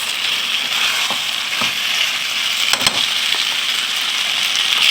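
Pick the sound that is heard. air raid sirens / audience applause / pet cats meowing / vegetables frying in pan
vegetables frying in pan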